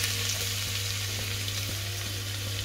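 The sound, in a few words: chopped garlic frying in oil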